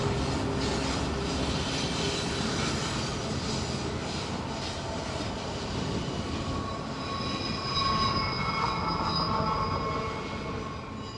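A BNSF freight train with helper engines climbing the 2% grade of Cajon Pass, a continuous heavy rumble with rolling wheel noise and high squealing tones near the end, steady and fairly close.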